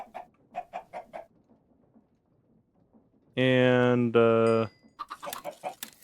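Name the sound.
chickens clucking in the video game Minecraft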